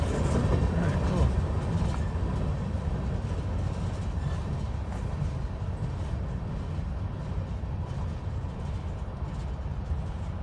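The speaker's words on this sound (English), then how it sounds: "That was a freight train." A CSX freight train pulled by locomotives 3429 and 746 leaves a siding, producing a continuous broad rumble and clatter of rolling cars that stays fairly loud and steady throughout.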